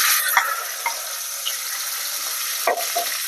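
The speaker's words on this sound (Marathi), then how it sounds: "जिरं फुलले की लगेचच यामध्ये घालायचं आहे आपण जे वाटण तयार केलेलं ते वाटण यामध्ये" Spice paste goes into hot oil with cumin in a pan, producing a continuous bright sizzle with a few wet splatters and stirring bursts, close up and without talk.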